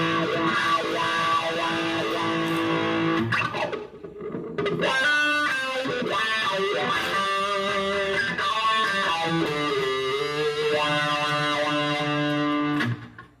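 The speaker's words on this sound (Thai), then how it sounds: "ตัวนี้ก็เป็นวาล์วนะเสียงแตกวาล์ว" Electric guitar played through a Boss ME-25 multi-effects unit's heavy valve-style distortion, thick crunchy chords ringing out with a brief drop in the middle, loud and close, no voices.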